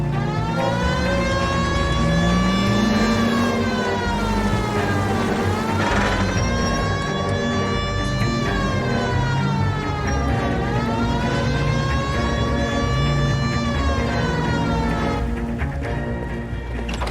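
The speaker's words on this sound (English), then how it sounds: "Hit the siren." A police car siren in L.A. Noire wailing up and down in slow, repeating sweeps over a car engine's steady hum, loud and continuous.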